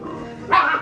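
A red or black standard poodle puppy playing indoors gives a single short, close bark right after a low, soft whimpering tone.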